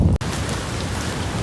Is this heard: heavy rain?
yes